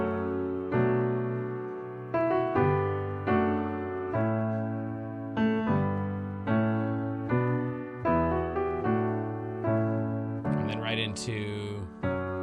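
A song played in ABA form on a sustained keyboard-like instrument, slow chords struck in a steady pulse with a melody above, close and clear, ending in a brief bright flourish near the end.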